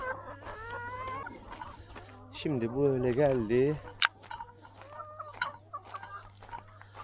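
Chickens cluck and call nearby while a person speaks briefly over a steady low hum.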